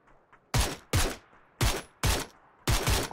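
Five loud, sharp gunshots in the video game PUBG, spaced unevenly about half a second apart, each with a short decaying tail against near silence.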